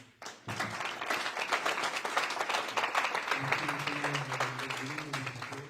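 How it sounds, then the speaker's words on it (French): A church audience bursts into sustained applause, a dense, even wash of many hands clapping, with a voice speaking over the last part. "je pense qu'on va applaudir sur cet événement"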